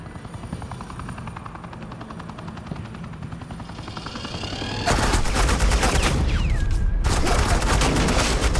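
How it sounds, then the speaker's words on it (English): Gunfire is heard in the video game Batman: The Enemy Within, under a constant helicopter rotor beat. Dense, loud sustained bursts of automatic fire start abruptly about halfway through, with no talk. "Suppressing fire."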